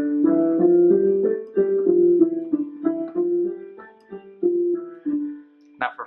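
Piano exercise pattern slid up to start on D with the lowest notes, a slow sequence of clear, separate notes and small chords played one after another, near and alone with no talk, ending on a brighter short chord.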